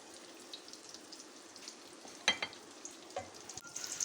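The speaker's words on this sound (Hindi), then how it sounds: "और कबाब भी फ्राई हो रहे हैं" Kebabs fry quietly in a pan, a faint soft sizzle with a few sharper pops and scrapes, heard from close by with no talking.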